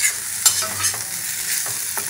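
Banana bhujia sizzling in a pan while being stirred, a steady close frying hiss broken by soft scraping strokes of a spoon, with no voices.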